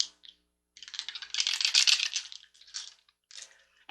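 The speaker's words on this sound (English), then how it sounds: "let's get ready to roll that dice" Small dice rattle and clatter across a surface during a tarot and astrology reading, a short burst of tumbling clicks that settles into a few scattered taps, close and fairly quiet.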